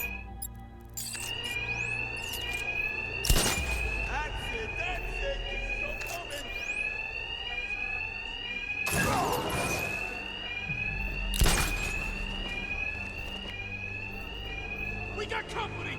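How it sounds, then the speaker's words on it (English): Alarms ring in the Batman: Arkham Knight video game, a loud repeating electronic bell-like tone that keeps going with heavy thuds and impacts and some speech layered over it. "These thugs can't hear a thing over the alarms."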